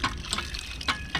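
Water is pumped up and gushes out in uneven surges, giving close, splashing pulses of liquid that repeat every few tenths of a second, with no talking.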